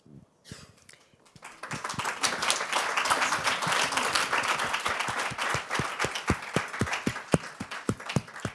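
At a ceremony during the Afghan cycling championships in Aigle, an audience applauds with distinct, fairly close hand claps that build into a steady round and thin out into scattered, sharper claps at the end.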